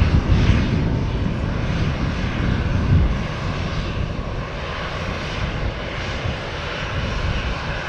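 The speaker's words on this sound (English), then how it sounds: "Nice lighting on that Aer Lingus. Yeah, looks really nice. great sound as well from the A320." Aer Lingus Airbus A320 airliner engines roar loudly and steadily at Manchester Airport, a broad continuous jet rumble that stays strong throughout with no talk over it.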